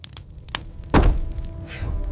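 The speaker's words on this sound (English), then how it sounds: "A deep, uneven thump echoed through the dead of night," A single deep, uneven thump strikes a small cabin in the dead of night, a sharp heavy impact followed by a brief low rumble that fades into quiet.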